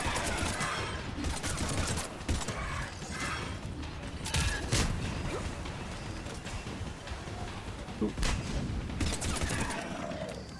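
Mass Effect 3 combat gunfire: dense rapid bursts of weapon fire and mechanical clatter, sustained and loud throughout with brief louder volleys, no speech.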